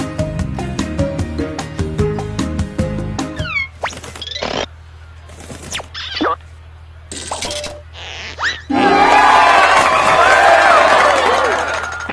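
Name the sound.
audience applause and cheering in Jackbox video game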